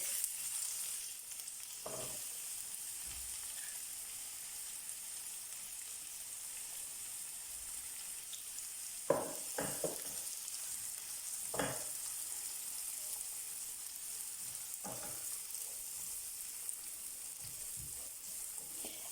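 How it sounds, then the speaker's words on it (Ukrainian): Onion, garlic and chili frying in olive oil in a pan for shakshuka give a steady, even sizzle throughout, broken by a few sharp clacks of stirring. "Вкидаємо цибулю, часник та перед чілі і обжарюємо до золотистого кольору."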